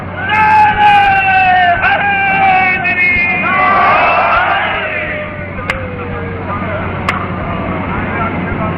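A majlis audience chants a religious slogan in unison, loud drawn-out shouts rising and falling over a few seconds in a reverberant hall, heard beside a preacher's amplified voice.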